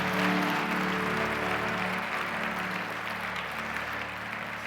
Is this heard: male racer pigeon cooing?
no